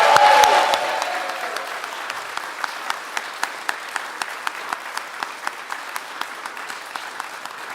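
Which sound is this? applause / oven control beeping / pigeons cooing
applause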